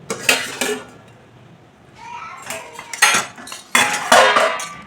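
A pot of thin fish curry with ridge gourd and potato is tipped out, metal pot and utensil clanks and scraping in bursts, close and fairly loud, with a brief voice.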